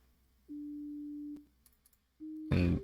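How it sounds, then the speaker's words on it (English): Pure sine wave synth lead remade in the 3x Osc plugin. Two clean, steady tones play alone, a long held note and then a short one, followed by a loud burst of other sound at the end. "Then there's this sine lead that plays in the song."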